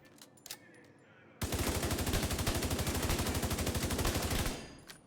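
A FAMAS assault rifle in The Division fires one long unbroken burst of rapid, evenly spaced loud shots for about three seconds, then cuts off abruptly, with faint game sounds before and after.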